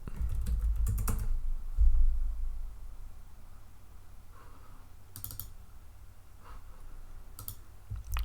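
Typing on a computer keyboard, several quick bursts of clicking keys separated by quiet pauses, close and fairly loud, with a faint background hiss between bursts.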